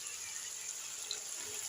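Water poured into a pan of bitter gourd and chicken seasoned with turmeric, a steady bright splashing stream running evenly throughout, close and fairly soft, with no talking.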